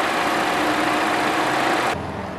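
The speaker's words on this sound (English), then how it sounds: "Under the hood is a four-cylinder engine." Four-cylinder engine of a 2014 Buick Verano idling under the hood, a steady close drone that drops in level near the end, with no talk.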